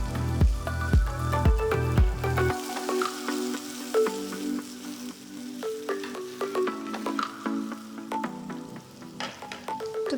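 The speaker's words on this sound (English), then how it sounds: "Just stir fry the veggies." Onion and capsicum wedges stir-fry in a hot pan for an Indo-Chinese chilli egg dish, a loud steady sizzle with stirring scrapes throughout and a low hum that cuts out early.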